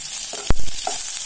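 Cashews frying in a pan of hot oil or ghee for a pongal tempering give a faint crackling sizzle, broken by a brief sharp stirring clack near the middle.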